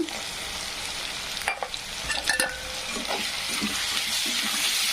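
Cashews and onions fry together in a pan for pulao, giving a continuous soft sizzle with a few stirring scrapes and clinks in the middle stretch.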